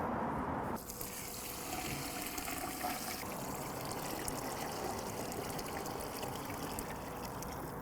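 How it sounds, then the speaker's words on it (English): Cold tap water pours steadily into a large stock pot for chicken stock, about 2.5 gallons, a continuous splashing fill that stays close and even from start to finish with no talking. "and then we're gonna cover it with cold water."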